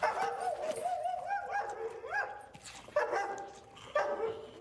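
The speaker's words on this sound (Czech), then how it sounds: "Proč se zasranej pes asi štěká?" A dog barks and yips repeatedly in short excited bursts, fairly close, with whining pitch rises between the barks.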